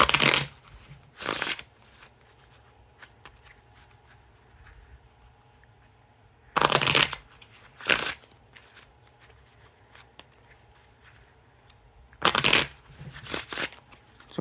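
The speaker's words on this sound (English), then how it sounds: "now time for the riffle shuffle or bridge shuffle" Theory11 JAQK Cellars playing cards are riffle shuffled in several brief, crisp bursts of fluttering clicks, separated by quiet pauses.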